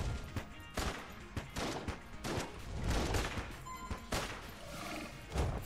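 Rapid gunfire from the twin-stick shooter Enter the Gungeon, dense bursts of shots and impacts in quick irregular volleys, loud and continuous with occasional sharper blasts and no talking.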